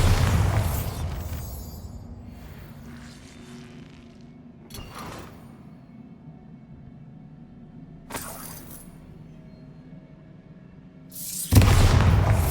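Bombarda spell blasts from Hogwarts Legacy: a loud burst at the start, sharp cracks near five and eight seconds, and a heavy explosive boom near the end, with quieter rumbling between.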